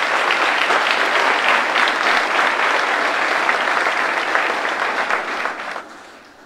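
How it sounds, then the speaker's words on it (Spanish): A large church congregation claps loudly and steadily during a sermon, sustained applause that fades out over the last second. "¿Cuántos aplauden a Cristo por este mensaje?"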